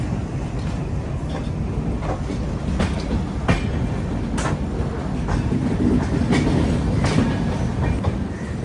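The Mahanagari Express rolls through a rail yard near Chhatrapati Shivaji Maharaj Terminus, heard from on board as a steady loud rumble with rhythmic clickety-clack over the track joints and no talking.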